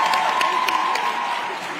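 Audience at a Forbes 30 Under 30 summit applauding in a short steady burst, a dense wash of clapping that fades slightly over under two seconds, with a few sharper claps standing out early.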